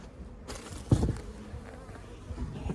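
Honeybees hum and buzz close by as the lid comes off a smoked beehive, a busy, dense drone with small knocks and clatters of the hive parts.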